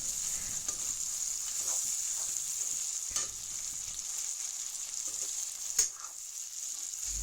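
Coriander frying in a pan gives a soft, steady sizzle, with a few light stirring clicks and a sharper scrape near the end.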